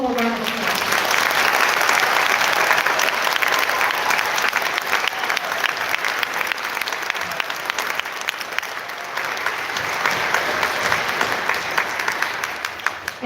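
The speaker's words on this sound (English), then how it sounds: "One more round of applause." An audience gives sustained, dense applause for middle school concert band students at a district concert, swelling and holding for many seconds before tapering, with scattered voices underneath.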